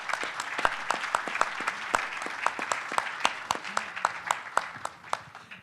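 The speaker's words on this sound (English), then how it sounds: "We can give them a round of applause again, too." A modest audience claps at an advanced manufacturing panel session, sparse and fairly quiet applause with distinct individual claps ringing out steadily throughout, no voices over it.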